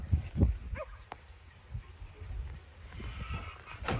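A dog that guards chickens barks several times outdoors on a sunny day, heard through an open window at moderate distance and fairly faint, with no talk.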